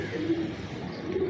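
Teddy pigeons with blue-ringed eyes coo steadily nearby, a low soft murmuring call that swells twice over a faint background of other birds, with no talking.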